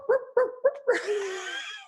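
A puppy barks in quick, loud bursts, four sharp yips close together, while chasing ptarmigan, then breaks into a drawn-out, rising whine.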